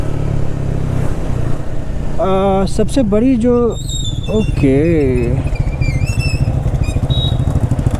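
A Triumph Speed 400, a lightweight 400 cc motorcycle, is ridden with a steady engine drone, rising and falling revs with whiny pitch sweeps, and someone talking over the ride.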